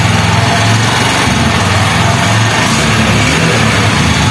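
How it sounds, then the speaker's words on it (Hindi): A BS6 Honda Shine motorcycle's single-cylinder engine runs at a steady idle close by, a loud continuous putter with no voices over it. "सिंगल किक में हमारी गाड़ियाँ स्टार्ट हैं।"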